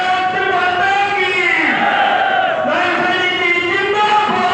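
A rally crowd at a chief minister's blessing rally in Loharu Mandi chants "Bharat Mata ki Jai" in unison, loud and close. A dense, sustained roar of many voices continues without a break.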